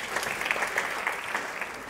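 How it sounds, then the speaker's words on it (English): An audience at a church talk on prayer applauds steadily, a dense patter of many hands clapping at moderate volume throughout. "Give yourselves a round of applause."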